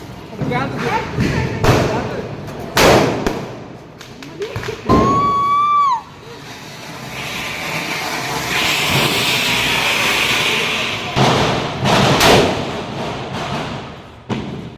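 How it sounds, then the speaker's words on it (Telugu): Diwali firecrackers burst near a home in a series of sharp bangs and thuds, one with a rising whistle before it, then a long crackling hiss, while people talk and call out between the blasts. "మేమైతే ఈ క్రాకర్స్ అవన్నీ కాలుస్తూ మంచిగా ఎంజాయ్ చేసాము"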